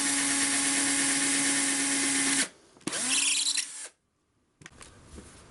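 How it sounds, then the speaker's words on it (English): A power drill with a 2mm twist bit whines steadily while boring clamping holes for a CNC router, then winds down, spins up briefly again and stops, leaving near silence with faint handling sounds. "I'm going to drill all the way through with a 2mm twist drill"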